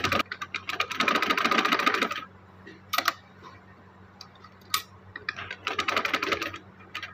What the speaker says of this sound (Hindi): गले के ऊपर दोबारा सिलाई करते हैं।